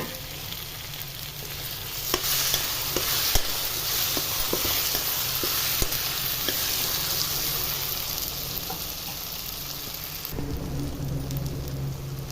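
Taro roots added to a pan with cooked onion and tomato, a dense, steady sizzle with scattered sharp clicks of stirring, close up, and a brief shift in tone near the end, no talking.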